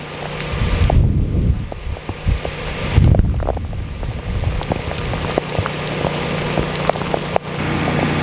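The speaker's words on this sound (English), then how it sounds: "right now, it's raining very heavily again" Heavy rain pours steadily during a California winter storm in the San Lorenzo Valley, a dense hiss of drops drumming on surfaces close by, with occasional gusts and thumps of wind buffeting the microphone.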